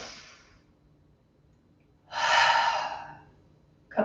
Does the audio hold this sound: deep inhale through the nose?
yes